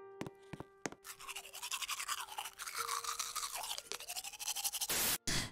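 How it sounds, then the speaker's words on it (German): A toothbrush scrubs teeth in quick, steady back-and-forth strokes, close and continuous, after a few sharp clicks at the start and a brief break near the end. "So, Zähne geputzt."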